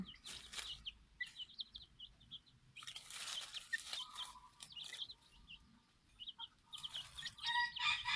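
Silkie chickens cluck and chatter in short repeated calls, with occasional louder crowing-like cries, fairly quiet and steady throughout.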